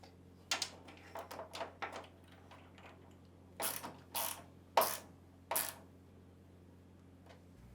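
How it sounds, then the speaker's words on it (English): Scattered ratchet clicks and short metallic bursts as shipping bolts are screwed into the back of an LG Kenmore washer, close and fairly quiet, with pauses between turns. "using the shorter shipping bolts, align them to the top retainers on the back of the washer and screw them into place"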